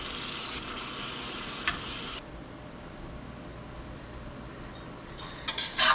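Six pounds of meat and two large onions sizzle in a pot, a steady hiss that quiets partway through, with a few clinks near the end.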